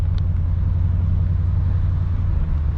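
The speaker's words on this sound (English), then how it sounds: "M3 sounds fire." A straight-piped BMW M3 cruising on a highway, its exhaust producing a steady, deep droning rumble from inside the car, loud and constant with no shifts or revving.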